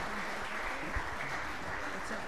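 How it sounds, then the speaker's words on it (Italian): Steady applause from a lecture audience at an Italian academic talk on globalisation and nationalism, a soft, even wash of clapping throughout, moderately distant. "Grazie per l'applauso."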